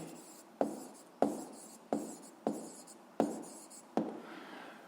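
Pen strokes scratch across paper while a physics problem solution is written down, coming as six or seven sharp, evenly spaced strokes that each start loud and fade, close and quiet, with no talking.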